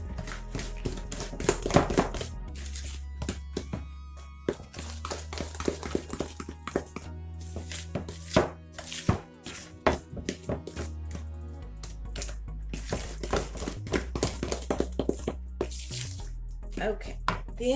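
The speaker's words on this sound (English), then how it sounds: "It doesn't say to use a mixer, so I am just stirring it." Bisquick crumb cake batter stirred vigorously by hand in a bowl, giving a run of uneven taps, knocks and clacks of the spoon against the sides. The strokes come in busy bursts with brief pauses, close up and alone, with no talking.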